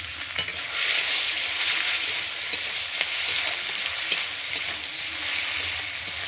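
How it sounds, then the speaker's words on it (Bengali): Steady crackling sizzle of onions frying in hot oil, loud and close, with a few sharper pops and the occasional scrape of stirring. "আমি এখানে কিন্তু পেঁয়াজটা একদম লাল করে ভাজবো না, হালকাই ভেজে নেব।"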